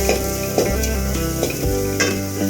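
Ingredients dry-roasting in a pan for rasam rice, with a stirring spoon scraping in repeated strokes over a steady, close sizzle.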